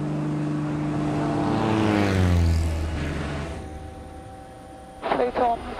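A light aircraft's propeller engine rises in pitch and power during a go-around, a loud near drone that swells and then fades, with a voice speaking at the end.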